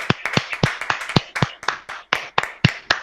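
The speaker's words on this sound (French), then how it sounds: "Applaudissez pour le Seigneur" Hands clapping in a church prayer gathering, close and crisp, with quick claps falling into a steady, slightly uneven rhythm.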